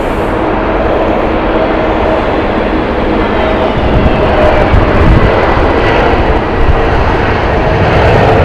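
A United Boeing 777-200 bound for San Francisco taxis at Heathrow, its jet engines giving a loud, steady roar with a broad rushing hiss that swells slightly partway through.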